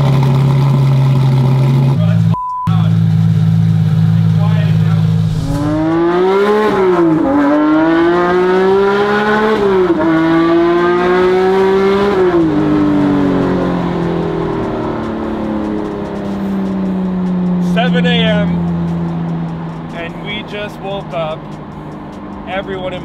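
A Porsche GT3 Touring's 4.5-liter engine cranks and catches in a garage, then revs up repeatedly in rising, roaring bursts before settling into a loud, rumbling idle nearby.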